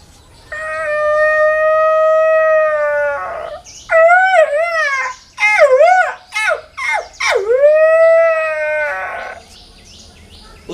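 A man imitates a jackal howl with his voice, giving a long sustained wavering howl, then a series of shorter rising and falling yelps and a final drawn-out howl, loud and close with no other sounds.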